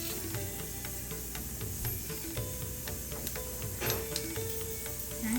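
Mustard seeds, chana dal and urad dal frying in one to two spoons of hot oil, giving a steady close hiss with faint scattered pops and crackles throughout.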